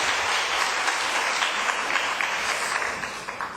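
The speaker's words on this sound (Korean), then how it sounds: "자, 박수하겠습니다." A church women's service congregation breaks into a standing ovation for a visiting pastor, with dense, even clapping filling the hall and easing slightly near the end.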